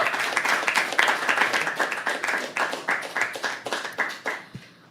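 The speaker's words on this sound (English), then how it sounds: "Please keep clapping till she comes on stage." Audience at a Women's Day performance in Mumbai clapping steadily, a dense patter of many hands with rhythmic surges, close and fairly loud, fading out at the end.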